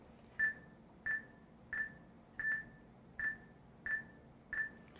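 Seven short, evenly spaced electronic beeps from a psychomotor vigilance test, each quickly followed by a soft response click, sound in a quiet room.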